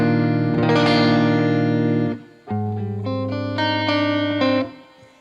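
An electric guitar played through a small amp on a clean tone rings out in sustained chords and then a few picked notes, bright and close with a slight room echo. No voices are heard.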